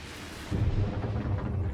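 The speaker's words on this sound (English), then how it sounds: "Definitely shoot some lightning at it." Force lightning crackles against a stone monument in Star Wars: The Old Republic, a sudden rumbling burst that swells in after a brief quiet and holds as a dense, thundery roar.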